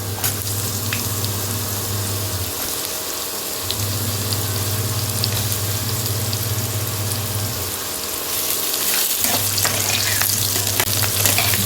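Ridge gourd and browned potatoes sizzle steadily in a hot pan, a continuous close frying hiss with a low hum that drops out twice, plus occasional stirring scrapes and no talking.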